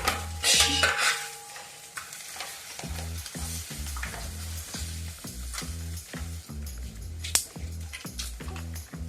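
Chicken masala is stirred in a pan: a steady frying sizzle under a regular rhythmic scraping of the spoon, close and continuous, with a few louder clatters and no speech.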